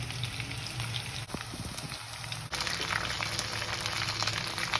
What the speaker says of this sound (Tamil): அது வரைக்கும் நல்லா கொஞ்சம் வதக்குங்க. ஓரளவு நல்லா ப்ரௌனிஷ் கலர் வந்ததுக்கப்புறம் நம்ம தக்காளியை சேர்த்துக்கலாங்க.